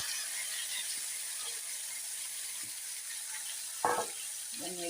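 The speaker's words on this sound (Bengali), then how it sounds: "নেড়ে দিচ্ছি বন্ধুরা।" Ginger-garlic paste, tomato, chillies and onion fry in a pan with a soft, continuous sizzle. A few quiet scrapes of stirring come through, and a brief voice-like sound appears toward the end.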